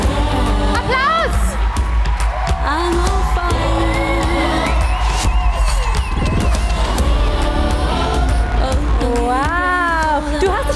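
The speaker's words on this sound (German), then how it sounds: "dann macht jetzt bitte noch mal einen Riesenlärm" A large crowd cheers, whoops and yells at the world premiere of Maxton Hall season 2, a loud continuous roar with a voice speaking over it in German and music underneath.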